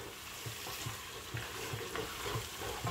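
Mutton karahi with coriander being stirred and mixed in a pan, a steady close sizzle broken by regular scraping strokes of a spoon about every half second, with no voices.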